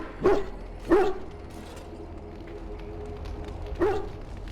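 A dog in the game Dragon Age: Origins gives three short barks, two close together at the start and one more a few seconds later, with a low ambient hum between them.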